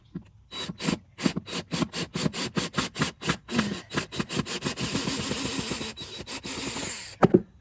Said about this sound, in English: So I'm taking off this kick plate.